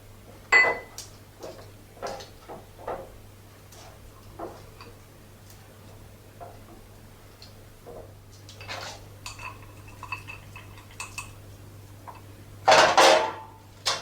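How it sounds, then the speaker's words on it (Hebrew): Chocolate-coated caramelized nuts being stirred with cocoa powder in a bowl, giving light irregular clicks and scrapes of a utensil against the bowl, with a louder clatter near the end. "כשהכל מצופה בשוקולד אני מוסיפה את הקקאו אני גם מערבבת"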